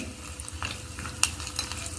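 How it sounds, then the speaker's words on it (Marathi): Dhokla tempering with curry leaves and chopped coriander is stirred in a pan after the flame is off, a soft sizzle with light spatula scrapes and one sharp clink of metal, close and fairly quiet. "हे छान आता आपल्याला असं परतून घ्यायचं आहे"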